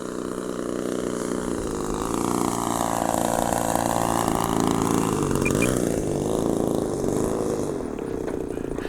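A Legend Hobby / Seagull Models Shock Cub RC airplane's engine revs up and back down, a loud buzzing drone sweeping in pitch over several seconds, with no voices.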